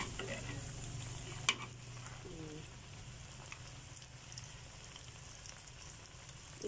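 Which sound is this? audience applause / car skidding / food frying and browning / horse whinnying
food frying and browning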